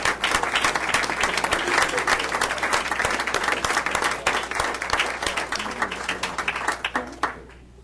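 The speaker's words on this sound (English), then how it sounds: "I think this calls for another standing ovation." A standing ovation at a school board meeting: dense, loud clapping from a room full of people that keeps up strongly, then thins into scattered claps and fades near the end.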